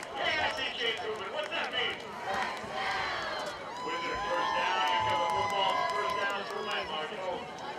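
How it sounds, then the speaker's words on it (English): At a Windsor High School versus Grand Junction High School football game, a PA announcer calls out a first down over the stadium while the crowd cheers and rumbles throughout. "Bobby Warner on the PA calling out the first down, and definitely getting this crowd excited about it."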